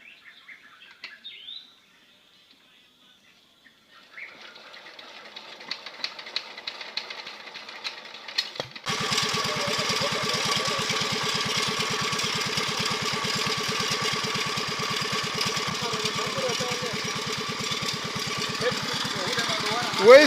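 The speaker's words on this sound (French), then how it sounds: "On a dû faire appel à un moteur un peu plus solide qui est capable de vider ça en très peu de temps." A sturdy engine-driven pump runs steadily and loudly while emptying a water basin at an irrigation spring on a watermelon farm, starting up partway through after quieter birdsong and faint chugging, then droning continuously.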